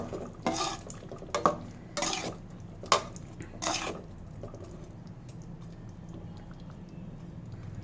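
Spoon scraping and clacking around a pan as soya chaap curry is mixed, a few distinct stirring knocks in the first four seconds, then quieter background.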